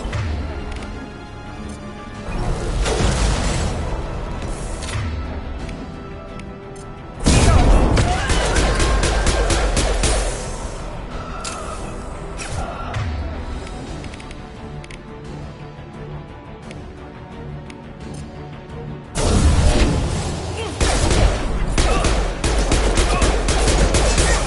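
Weapon fire from an impact shot in Mass Effect 2 bursts out in heavy, loud volleys, with sharp onsets at two points. Dense combat noise and rumble continue between the blasts.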